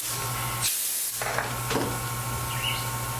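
Compressed air blasts dust out of a MacBook Pro in a short loud hiss, followed by a couple of briefer puffs over a steady background hum.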